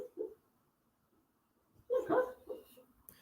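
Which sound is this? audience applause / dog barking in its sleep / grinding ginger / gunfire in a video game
dog barking in its sleep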